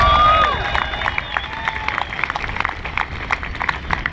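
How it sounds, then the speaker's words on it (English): Crowd of shark cull protesters at an outdoor rally cheering and clapping briefly, a burst of close whoops and applause that quickly thins into scattered claps and chatter. "I want to have everyone give themselves a big cheer for being here."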